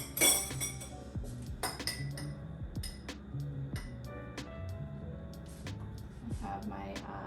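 A spoon clinks against ceramic coffee cupping bowls while breaking the crust and skimming off grounds at a large coffee tasting, with repeated light, close taps and scrapes over a steady room hum.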